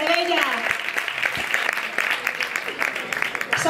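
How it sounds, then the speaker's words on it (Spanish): An audience at an awards ceremony in a hotel claps loudly and continuously throughout. A voice is briefly heard at the start. "para entregar el premio vamos a invitar al escenario con un fuerte aplauso a Sonia Gil"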